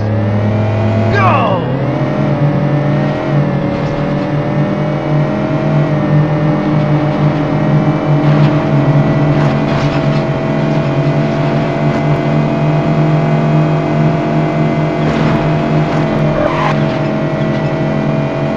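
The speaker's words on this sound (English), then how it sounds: "Off-roaders, start your engines." Several off-road vehicle engines rev and drone loudly at the start of a race in Test Drive Off-Road 2, a steady, continuous engine roar with a rising pitch sweep early on, filling the whole stretch.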